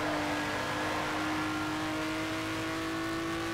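A Ferrari racing game engine holds a steady, high-pitched whine while drifting, loud and continuous throughout, with no talk over it.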